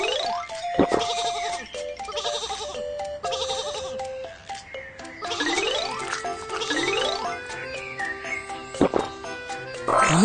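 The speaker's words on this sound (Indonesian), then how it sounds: "Kawanan domba ada di jalur." Several sheep bleat repeatedly in wavering, nasal cries, overlapping one another in a busy, close chorus.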